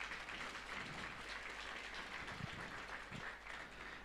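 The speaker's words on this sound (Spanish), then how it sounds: "vamos a dar fuertes aplausos, por favor." Church congregation at a Sunday service applauding, steady soft clapping from many hands at a distance, even and sustained throughout with a faint low hum beneath.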